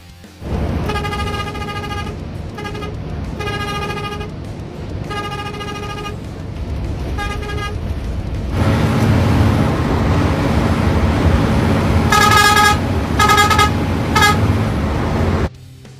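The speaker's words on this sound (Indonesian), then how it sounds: "Yang keenam, klakson patah-patah." Loud Sumber Group bus horns in Indonesia honking in short, choppy staccato bursts, first a run of separate toots, then a denser musical sequence over rumbling traffic noise.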